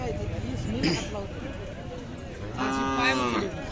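A Khillar cow at a cattle market lets out two drawn-out moos, moderately close, over a busy background of voices and murmuring people.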